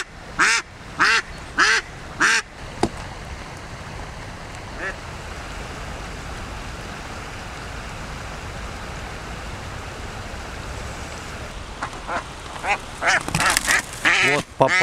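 A Semyonov breed decoy duck quacks in a quick series of four loud calls, falls silent amid steady background hiss, then bursts into a rapid run of quacks at the end.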